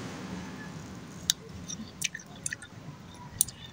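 Wet squishy bites of freshly washed mulberry fruit, a few soft clicks and squelches scattered over a steady low background hiss, with no talking.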